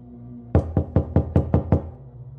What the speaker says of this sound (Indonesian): Lalu diketuklah pintu rumah itu.